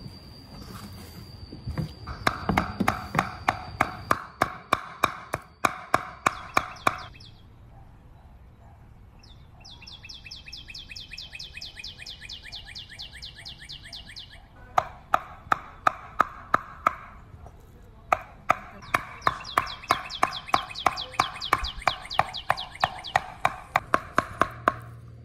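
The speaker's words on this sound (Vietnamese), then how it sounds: "mình sẽ đi băm thịt để làm nhân" A knife mincing pork for dumpling filling strikes a cutting board in rapid, repeated chops, pausing in between bursts, while birds chirp steadily in the background.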